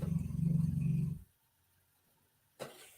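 A sleeping, twitching dog growls low and rumbling for about a second, then goes quiet before a brief rustle.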